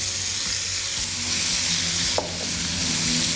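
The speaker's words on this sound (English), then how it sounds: "It's pretty hot already, so the filling can go straight in." Meat and prawn filling hits a hot oiled pan for banh xeo, giving a loud, steady sizzle and frying crackle with a brief stirring scrape partway through.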